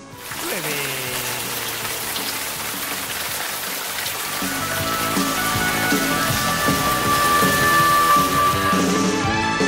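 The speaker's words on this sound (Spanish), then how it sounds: "aquí llueve." Steady rain pours in Bogotá, a dense continuous hiss that grows slightly louder toward the end, with faint tonal background sounds mixed in and no speech.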